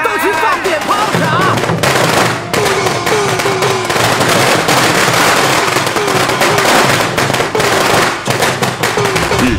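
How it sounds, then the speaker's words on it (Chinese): Firecrackers are set off in the street in celebration, loud dense strings of rapid cracks and pops that run on and on with little pause, a harsh crackling barrage close by. "这老百姓啊都在街上放鞭炮庆祝呢"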